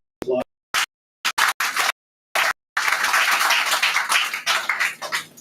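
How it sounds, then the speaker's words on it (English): Audience applause at a graduation ceremony begins as short, chopped bursts of clapping, then builds into a continuous, fairly close round of many hands clapping together. "Please, another applause."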